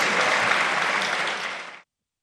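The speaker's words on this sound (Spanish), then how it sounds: "Ahí estaban los aplausos en las gradas" Applause from the public galleries of a parliamentary chamber after a vote, a dense burst of many hands clapping that cuts off abruptly after under two seconds.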